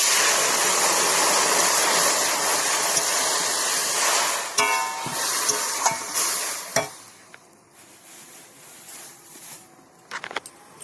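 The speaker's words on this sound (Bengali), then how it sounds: "এর মধ্যে আমি জল দিয়ে দেবো।" Water is poured into a pan of frying eggplant, giving a loud, steady sizzle and rushing pour that breaks up into scattered stirring clatters and hisses, fading quieter toward the end.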